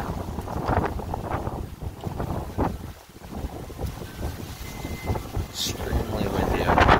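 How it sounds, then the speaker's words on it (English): Strong gusts roar steadily through rainbow eucalyptus trees stripped nearly bare, with loud, rushing wind buffeting the microphone throughout and swelling toward the end. "It's so windy."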